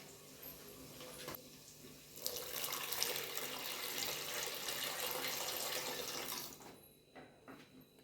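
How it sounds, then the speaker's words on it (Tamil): Water pours steadily from a tap into a rice cooker pot of lentils for several seconds, a continuous hissing splash that stops near the end, with faint clinks after. "தேவையான அளவு பருப்பு வேகிறதுக்கு தண்ணி ஆட் பண்ணிக்கலாம்"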